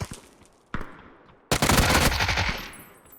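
Automatic fire from a UMP submachine gun in PUBG, with a short burst followed by a longer sustained volley, loud and close.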